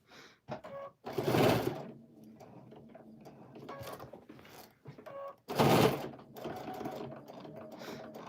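A sewing machine back-tacks the corners of a small NICU baby quilt, short bursts of rapid stitching separated by pauses and softer mechanical clicks, close and fairly quiet.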